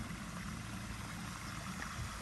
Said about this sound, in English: So we have 4 individual cascades. Gives you a lot of motion, a lot of noise.